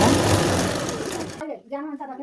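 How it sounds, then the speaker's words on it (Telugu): A sewing machine stitching a blouse runs in a loud, steady mechanical whir for about a second and a half, then stops, and a person speaks. "ఇట్లాగా స్ట్రైట్గా కుట్టు వేసుకోవాలి"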